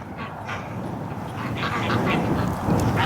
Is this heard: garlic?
no